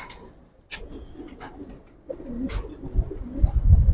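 Giribaz pigeons coo in a few soft, low, rolling calls close by, with light rustling and handling noise in between.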